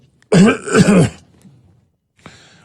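A loud throat clearing with a short cough-like burst, followed by quiet and a brief faint sound near the end.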